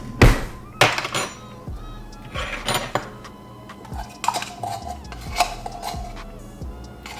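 A metal spoon clanks and scrapes inside a can, digging out leftover porridge of green banana and peanut, with repeated close knocks, thunks and clinks in an uneven rhythm over a quiet kitchen background.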